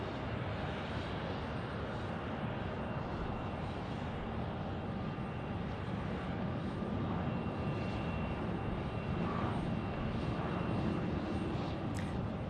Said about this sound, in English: United is going to be taxiing in right in front of us